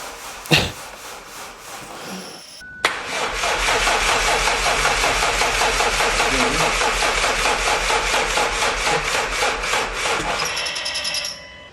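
A VW Golf R Mk7 with a flat battery is cranked over on a jump pack: after a sharp click, the starter churns in a steady, even rhythm for about eight seconds, close and loud, then stops.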